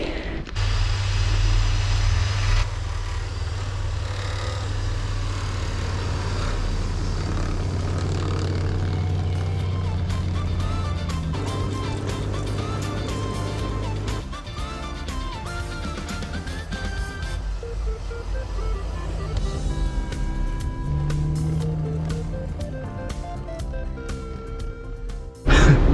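A Jeep fitted with homemade snow tracks grinds up a steep snowy hill, its engine holding a steady, loud low drone with mechanical clatter that shifts in pitch partway through the climb.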